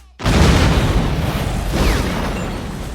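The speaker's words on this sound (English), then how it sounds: "Equally hilarious is the explosion that does eventually come, a massive fireball that completely obliterates the security guard." A massive movie fireball explosion bursts in suddenly and loudly after a brief silence, then rolls on as a long, heavy roar with a second swell of rumbling debris.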